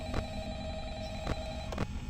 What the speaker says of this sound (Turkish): Telefon çalıyor hocam.